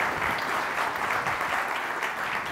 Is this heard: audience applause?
yes